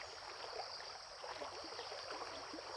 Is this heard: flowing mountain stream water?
yes